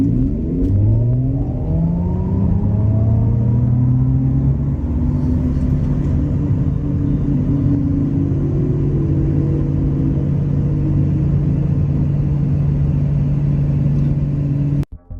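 A 2025 Audi e-tron GT RS electric car accelerates with a loud, continuous rising whine and tonal hum layered over road rumble, sustained throughout before cutting off abruptly at the end.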